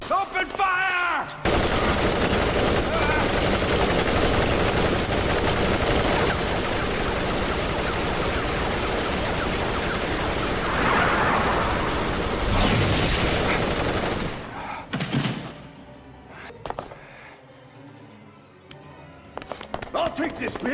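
Machine guns open fire in a dramatized containment breach scene, a long loud unbroken clatter of rapid automatic gunfire that lasts about fourteen seconds before cutting to quieter sporadic sounds and shouting voices.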